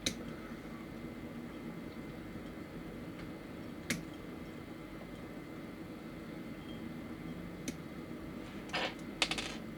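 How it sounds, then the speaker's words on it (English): Nippers snip a plastic part off a Bandai Gundam Sinanju model kit runner. A few sharp, isolated clicks ring out against a quiet room hum: one at the start, one near four seconds and a quick cluster at the end. "so I gotta clip that"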